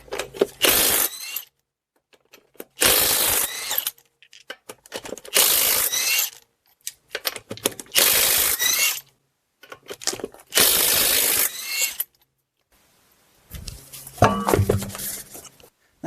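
Wheel lug nuts come off a 2010-2017 Chevy Equinox or GMC Terrain during a front brake job, as a power tool or ratchet runs in about six loud close bursts separated by short silences.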